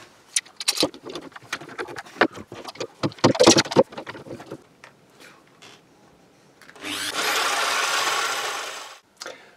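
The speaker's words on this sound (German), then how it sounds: "jetzt zwingen wir das Ganze fest und bohren das dann durch." A power drill starts and stops in sharp bursts amid clattering, then whines steadily for about two seconds before cutting off, drilling through clamped wood.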